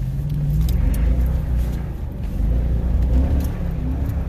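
A Toyota Tundra Double Cab accelerates while drifting across a snowy parking lot, its engine a steady, close, low rumble that swells and eases slightly through the run, with no talking.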